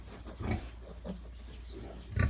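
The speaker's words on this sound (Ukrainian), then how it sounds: "Ось і кабанчик. Також венгерська мангалиця." A young Hungarian Mangalica boar on a farm grunts in short, low bursts, two louder grunts separated by quieter snuffling, close and alone without talk.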